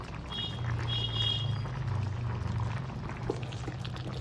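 Broth is ladled out of a pot of shukto simmering on the stove to mix with Amul milk, giving a short close liquid pour over a bubbling boil, with a faint clink near the end and no voices.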